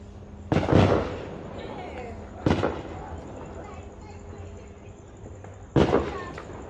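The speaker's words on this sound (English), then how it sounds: "A firework." Firework explosions near an outdoor dinner tent: three sharp, loud bangs spaced a couple of seconds apart, each trailing off with a short rumble, while people talk in the background.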